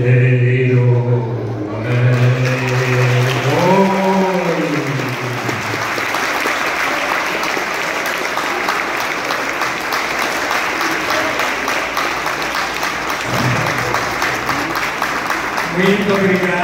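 An audience at an international congress lecture applauding, sustained dense clapping that fills the room after a voice speaks briefly at the start, with a few more voice fragments near the end.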